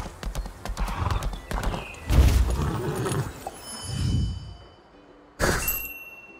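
A horse in the video game Lost Ark clip-clops with its hooves, then neighs and whinnies, mixed with metallic chimes and dings from the game, fairly close and in separate bursts.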